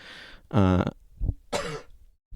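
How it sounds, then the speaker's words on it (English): A few short, harsh coughing bursts close by, separated by brief pauses, with a softer throat sound between them. "Now I have to cough."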